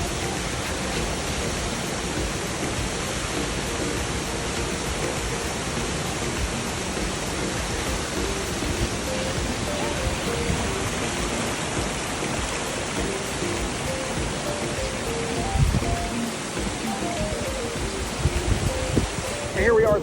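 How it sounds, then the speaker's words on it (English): A very tall waterfall in Iceland roars as a steady, dense rush of falling water. The broad wash holds unbroken for the whole span, with a few louder bumps near the end. "it's a very tall waterfall"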